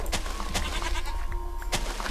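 A Minecraft goat bleats in quick, close, nasal calls from the video game, with a couple of sharp clicks between them and no speech.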